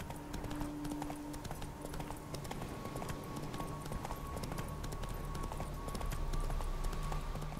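A horse gallops in The Witcher 3, its hooves drumming in a fast, continuous clip-clop over a dense game soundscape, close and steady throughout.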